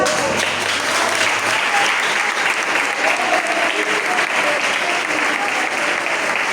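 A Pentecostal church congregation gathered for an International Women's Day service applauds with steady, vigorous clapping filling the room, close and continuous throughout, with faint voices mixed in.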